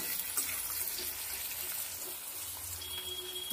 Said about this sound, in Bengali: গাজরটাকে দিয়ে দিলাম, এবার একটু নাড়িয়ে দিচ্ছি।